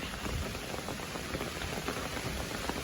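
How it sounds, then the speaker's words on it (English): Heavy rain pours steadily on a forest trail on the Appalachian Trail, a dense, even hiss of drops pattering on surfaces close by, with no voices. "As you can hear, the rain's really starting to pick up."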